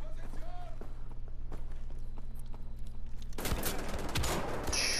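Pistol fire in the video game Wolfenstein: The Old Blood, a burst of sharp shots bursting in loud and close after a quieter stretch, layered over constant game background sound and a voice talking.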